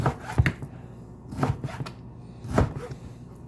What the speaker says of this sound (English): I'm going to cut some strip beef now.